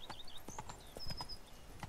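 Horse hooves clip-clop at a walk in The Witcher 3: Blood and Wine, a run of soft rhythmic thuds at moderate distance with faint high in-game ambience and no talk.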